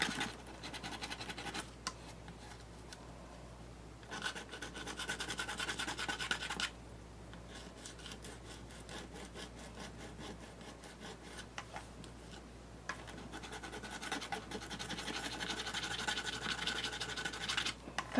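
Sanding and buffing a paper clay frog figure produces soft, quiet scratchy rubbing in repeated bursts of strokes, separated by brief pauses.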